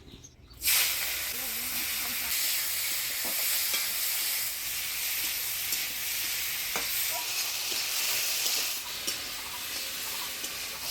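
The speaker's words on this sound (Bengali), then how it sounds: "চিংড়ি মাছটা ভাজি নিব।" Prawns frying in a pan for a Bengali jackfruit and prawn curry, a steady loud hiss and sizzle that starts abruptly and continues throughout, with occasional faint stirring clicks.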